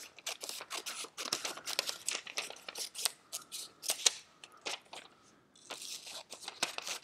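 Scissors snip through strips of material in quick, irregular cuts, quiet and close, with small rustles and crinkles between the snips and brief pauses.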